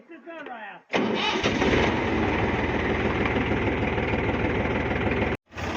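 After a brief voice, a tractor engine turns over and settles into a loud, steady diesel idle with a rapid chugging rhythm.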